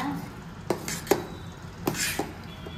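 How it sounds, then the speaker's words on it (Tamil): A spoon clinks and scrapes against a pot several times, with irregular knocks while okra buttermilk curry (vendakkai mor kuzhambu) is being stirred. "நல்லா கலந்து விட்டுக்கோங்க."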